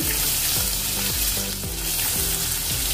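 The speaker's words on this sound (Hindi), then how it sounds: "अभी राई तड़तड़ने लगी है, अभी इसी स्टेज में हम डालेंगे अपना बारीक कटा हुआ लहसुन" Mustard seeds crackle and sizzle steadily in hot oil for a spinach dish, with finely chopped garlic going into the pan; a dense, continuous frying hiss with stirring scrapes, close and loud, no talk.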